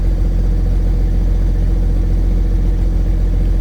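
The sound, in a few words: Case STX375 tractor engine running at idle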